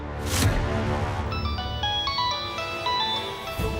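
A phone ringtone plays a repeating electronic melody of bright tones, loud and close, after a brief burst of noise at the start.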